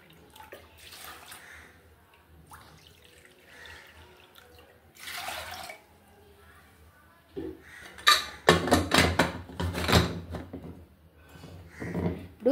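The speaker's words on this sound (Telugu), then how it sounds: "2 కప్పులు నీళ్ళు వేసుకుందాం." Water poured into a pressure cooker holding chana dal, first in faint trickles and then a loud, splashing pour in several bursts toward the end, close by with no talk.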